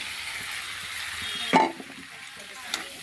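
Fried prawns and vegetables crackle faintly in a pan, and one loud clatter of the spoon against it sounds midway before a second, softer knock.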